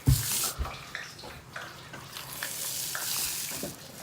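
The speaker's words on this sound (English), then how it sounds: "You can hear that sizzling in the background." Pig fat renders in a pot, giving a soft, continuous sizzle in the background with intermittent clinks and stirring sounds layered over it.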